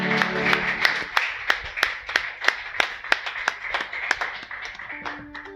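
A church congregation at a Sunday service breaks into loud, sharp clapping, a dense run of hand claps with some distinct strong beats, close and steady for several seconds, with faint voices underneath.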